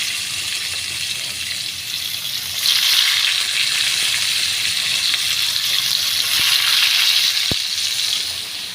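Onion pieces sizzle in hot oil with mustard seeds and cumin, a steady bright frying hiss that swells slightly partway through, with a couple of faint clicks of stirring; no voices.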